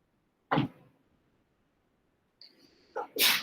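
A single person sneezes sharply and close by during a calculus lecture, with a brief intake of breath and a short, loud burst after quiet.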